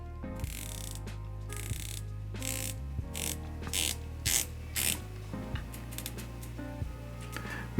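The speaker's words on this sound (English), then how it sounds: "Very tight, really precise, very nicely sounding bezel on the Nodus." The rotating dive watch bezel on a Nodus Retrospect II is turned in bursts of tight, precise ratcheting clicks, close up and crisp, with brief pauses between runs and no talking.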